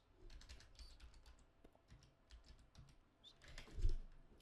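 Keys clatter on a computer keyboard in quick, light, irregular taps, quiet and close, with a slightly heavier keystroke near the end.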